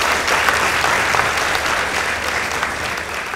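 An audience applauds for a girls' high school at a results announcement, a dense, steady burst of clapping close by throughout.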